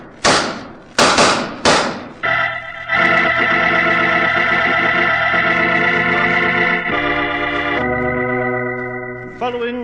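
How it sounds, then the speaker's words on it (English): Radio drama sound effect of an exchange of gunshots, three quick sharp cracks in a row, followed by a long sustained musical sting. "Following that exchange of shots, Roger Prescott died"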